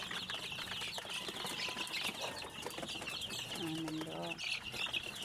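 Chickens cluck in a backyard coop behind a house, with steady cackling and bird calls over a constant noisy background. A brief voice speaks partway through.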